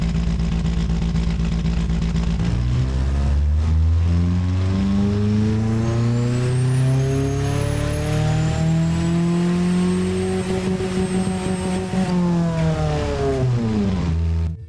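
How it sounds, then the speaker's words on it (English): A rebuilt car engine making roughly 580 horsepower revs loudly and continuously, its pitch climbing steadily through a long sweep and then dropping back, with no voices over it. "you can hear an engine that doesn't explode"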